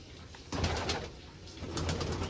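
Pigeons coo softly under a thick, hissy background of rustling and coop noise, the murmuring calls rising and falling.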